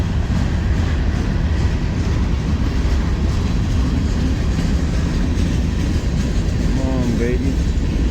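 Loud freight train of grain hopper cars rolling past close by, a constant heavy roar with rattling and clanking, and a brief squeal near the end; someone talks over it.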